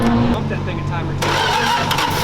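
A Dodge Daytona race car engine cranks and catches, then settles into a rough, loud idle close by, with people talking over it.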